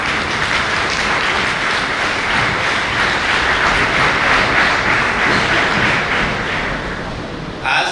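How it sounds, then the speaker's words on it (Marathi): Dense, steady applause from a large audience at a medical college white coat ceremony welcoming new students, loud and sustained before easing slightly and fading near the end. "त्यामुळे एकदा तुमच्या उज्ज्वल भविष्यासाठी एकदा परत जोरदार टाळ्या."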